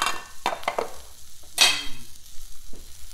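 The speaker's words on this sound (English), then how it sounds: "To a nice and fried, buttery fried egg. A bit of butter in there." An egg frying in butter in a pan gives a soft sizzle, broken by a few sharp scraping and clinking touches of a utensil, close and fairly quiet.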